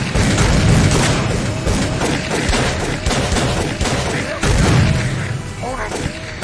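Gunfire crackles in the horror game Call of Cthulhu: Dark Corners of the Earth, a dense, loud volley of booming shots layered with shouting voices throughout.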